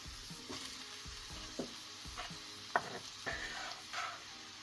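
Mushrooms and carrots fry in a pan, a soft steady sizzle broken by several scraping stirs and light clacks of a utensil, close but fairly quiet, with no talk.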